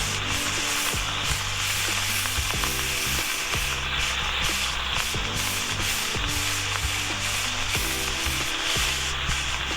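Beef sizzles and crackles in a hot pan, with rhythmic scraping and stirring against the metal as it is broken up, loud and close with no talking.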